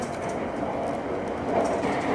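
Keisei Skyliner airport express train running through Tokyo's Katsushika downtown area after leaving Aoto Station toward Keisei Ueno, a steady muffled rumble of wheels and rails, fairly faint and continuous.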